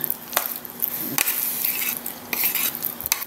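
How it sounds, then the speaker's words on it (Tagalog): A spoon stirs sardines with squash in a cooking pan, giving irregular close scrapes and clinks against the metal over a soft steady background, with no voices. "Balikan nyo ako habang hinahalo ko para naman sumama yung lasa ng ibang ingredients."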